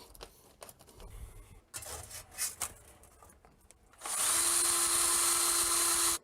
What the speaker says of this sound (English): we just tighten it up with a nut driver, tighten up this breeze clamp